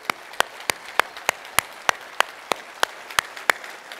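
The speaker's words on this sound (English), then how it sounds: "Let's hear a round of applause for all of our sponsors." A conference audience claps for the event sponsors, giving steady, evenly spaced claps that sound sparse and moderately distant, with no voices over them.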